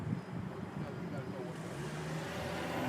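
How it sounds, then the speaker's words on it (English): Perpendicular traffic crosses an intersection from the left and right, a faint continuous wash of passing cars with a voice speaking briefly over it. "There goes your perpendicular traffic from the left and the right."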